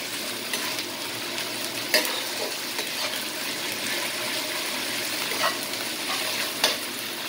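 Ginger paste fries in a pan with eggplant and tangra fish, a continuous sizzle punctuated by occasional scrapes and clacks of stirring, with no voices.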